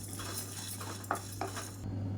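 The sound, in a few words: dry roasting sorghum with cashews and almonds in pan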